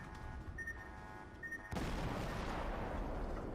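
The Phoenix cruiser in World of Warships fires its guns. A low ambient rumble gives way to a sudden, loud broadband blast about halfway through, and the heavy roar carries on to the end.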